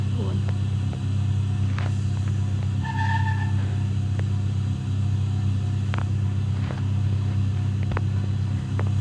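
A truck engine in the mobile driving game Dr Driving drones in a steady, low, continuous rumble, with faint clicks and brief beeps over it.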